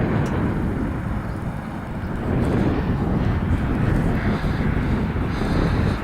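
Wind roars across the microphone during a cold, windy motorbike ride, a loud, continuous low rumble with constant buffeting and no let-up.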